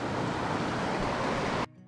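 A cold mountain river in the Sawtooth Mountains on the way to Alice Lake, a loud steady rushing flow close by that cuts off abruptly near the end.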